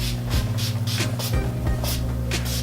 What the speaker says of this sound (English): it's Skindinavia, the Makeup Finishing Spray Bride.